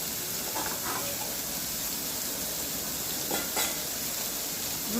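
Paneer pieces frying lightly in a little oil, a continuous low sizzle with occasional faint stirring scrapes.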